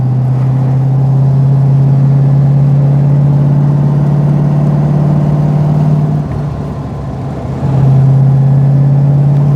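Daimler SP250 V8 sports car climbing a hill under full throttle, a loud, steady low engine drone heard close from inside, dipping briefly near the end before surging back.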